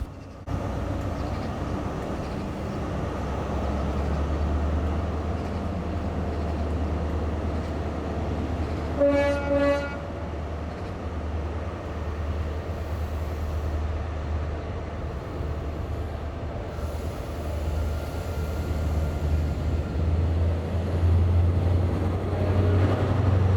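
An Intercity 125 high-speed diesel train rumbles past steadily on the GWR network in Cornwall with a low engine drone, and a brief horn blast sounds partway through before the roar continues.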